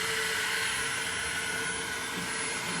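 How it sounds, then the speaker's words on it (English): An Ego battery-powered leaf blower runs steadily nearby, a continuous airy whoosh and fan whine at constant strength with no pauses, heard alone. "Now we're using the blower."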